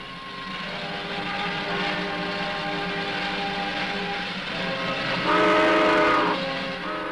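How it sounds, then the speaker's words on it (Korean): A train pulls away during the Korean War refugee evacuation, its rumbling, rattling cars rolling steadily and fairly close, with a whistle sounding out near the end. "기차는 떠나갔습니다"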